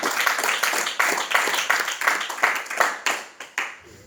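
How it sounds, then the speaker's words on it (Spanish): A church congregation claps hands together in a steady, fast rhythm, a dense crowd of palms beating in repeated bursts at close range with no talking over it. "Denle palmas, rey de gloria."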